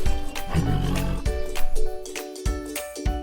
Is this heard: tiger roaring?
yes